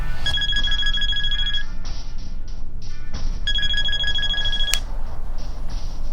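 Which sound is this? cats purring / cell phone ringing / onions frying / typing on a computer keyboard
cell phone ringing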